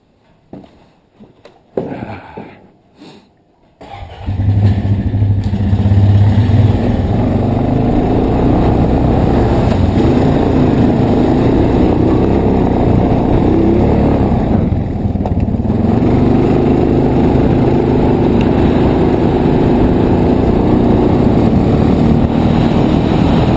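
A four-wheeler ATV engine idles and runs steadily up close on a snowy farm, with a steady low drone that starts after a few seconds of quiet knocking and continues without a break.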